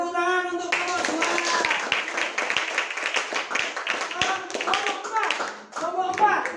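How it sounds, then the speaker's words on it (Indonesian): Classmates in an Indonesian classroom clap for group 2, a quick patter of many hands close by. Children's and adults' voices talk and call out over the applause throughout. "Oke, tepuk tangan untuk kelompok 2."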